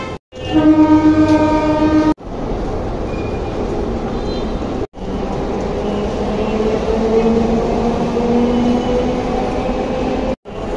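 A metro train runs at Esplanade station in Kolkata, a busy main terminus, with a loud continuous rumble of rolling wheels, a horn sounding near the start and brief breaks in the noise, and no voices.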